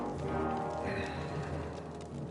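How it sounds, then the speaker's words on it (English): In the video game Kingdom Come: Deliverance 2, horse hooves clip-clop steadily among a dense, busy game soundscape, with a brief whinny-like tone partway through. "Bring the horses!"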